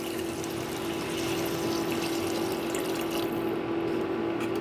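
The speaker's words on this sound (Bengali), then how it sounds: "এখন আমি এর মধ্যে দিয়ে দিব পরিমাণ মতো জল যাতে আলুটা চালটা খুব ভালো করে সেদ্ধ হয়ে যায়" Water is poured into a pot of fried potato and rice masala, a steady close splashing and gurgling flow that continues throughout.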